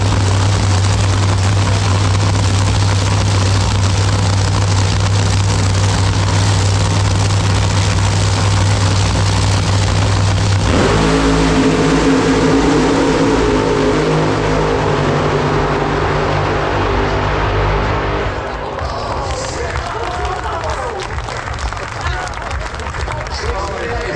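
A drag racing motorcycle makes a run at Santa Pod Raceway. The engine roars loud and sustained, with a steady low drone that shifts partway through and then fades into a rougher, more distant rumble.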